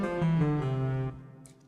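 A sustained synthesized chord in 22-EDO tuning, with the third, sixth and seventh each lowered by one step, shifts through a couple of voicings and then fades out over a short span, with no voices.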